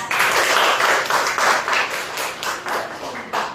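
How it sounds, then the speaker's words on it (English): A classroom audience applauds, with dense, steady clapping throughout at close range. "Can you give them a round of applause?"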